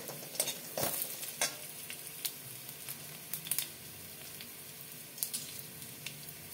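Crushed garlic cloves, a dried red chili and black cumin seeds frying quietly in hot oil, with soft continuous sizzling and a few sharper stirring clicks and spatters.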